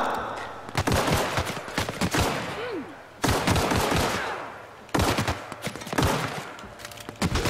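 Rapid automatic gunfire in The Outer Worlds on PS4, loud close bursts of rattling shots in several long volleys separated by brief pauses, with a voice briefly speaking over the shooting.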